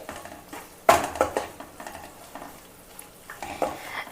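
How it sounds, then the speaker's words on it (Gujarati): Flour stirred and roasted in ghee over a low flame for farali sukhadi, with scraping and clinking of a spoon against the pan and a soft sizzle, one louder burst of stirring near the start and lighter strokes after. "એ જ રીતના આપણે ઘીમાં ધીમા તાપે લોટ છે તે શેકી લેવાનો છે"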